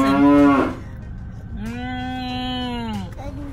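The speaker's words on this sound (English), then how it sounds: "I have no idea why she keeps mooing at this moment." A cow moos loudly and close by, then lets out a second long, drawn-out moo after a short pause.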